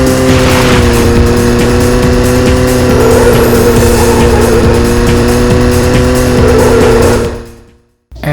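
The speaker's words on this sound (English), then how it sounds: "the car audio is not pleasant to listen to" Race car engines drone steadily in the PS1 game All Star Racing, with layered harsh tonal whines and tire noise, loud and continuous before cutting out abruptly near the end.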